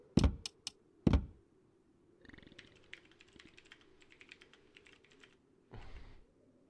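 Typing on a computer keyboard during a game stream, with a few sharp loud knocks at first, then a quick run of light, close key clicks over a low steady hum, ending in one more thump.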